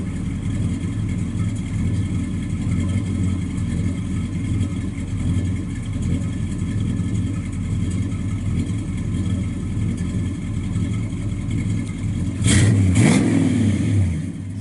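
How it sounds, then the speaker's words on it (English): A 1967 Chevrolet Chevelle SS 396 with a four-speed idles through dual exhausts, a steady low throaty burble that swells into a brief louder rev near the end, close up with no talking. "Sounds good out the duals."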